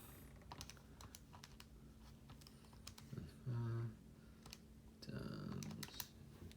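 Numbers are tapped into a calculator as a quick series of faint, close clicks, with a couple of brief voiced sounds in between, all fairly quiet.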